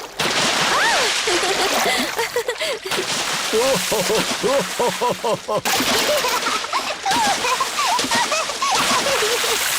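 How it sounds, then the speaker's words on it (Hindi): Cartoon water splashing at the beach, with repeated sloshing splashes under animated voices talking and exclaiming throughout. "अब और कितना छिड़कोगी?"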